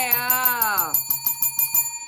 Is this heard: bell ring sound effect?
yes